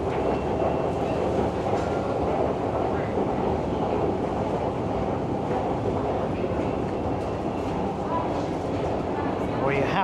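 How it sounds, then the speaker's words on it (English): A London Underground Jubilee line tube train rumbles steadily with constant rattling clatter and faint wheel squeal, loud and enveloping throughout, with voices mixed into the noise. "it's time to take a tube. Try the Jubilee line."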